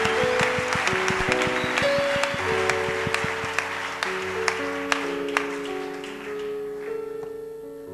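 A church congregation claps hands for God during a sermon, with rhythmic claps over sustained keyboard chords and music throughout, the clapping fading toward the end.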